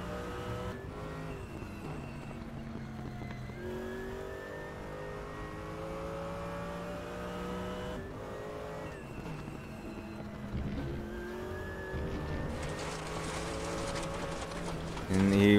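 A race car engine on an onboard lap of Monza in the RaceRoom racing game holds steady tones with repeated rising revs and shifts, close and continuous, while a commentator talks over it.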